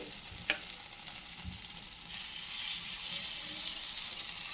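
Masoor dal dosa batter cooks on a pan with a soft, steady sizzle that grows a little louder partway through, with a couple of faint taps early on.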